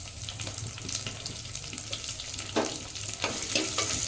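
Chopped onion dropped into hot oil in a pan while cooking capsicum bath, giving a steady close sizzle with scraping and stirring bursts, no talking.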